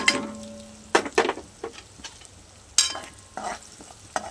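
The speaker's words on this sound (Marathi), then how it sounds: "हे सर्व मसाले आपण तेलाने थोडं परतून घेऊया." Red chili, coriander powder, garam masala, turmeric and salt sautéed in oil over low heat, short sizzling bursts and clinking stirs against the pan in irregular clusters, close and distinct, with no talk.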